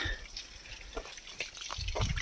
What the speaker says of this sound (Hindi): ऊपर से पानी आ रहा है और ये नीचे जा रहा है इस समय।